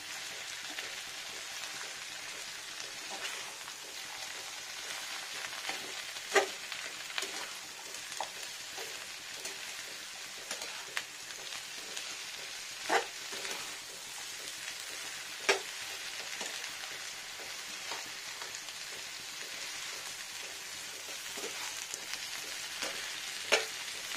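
Chopped pointed gourd sautés in a pan, giving a soft continuous sizzle with scattered small pops and occasional stirring clicks, fairly faint and without talk.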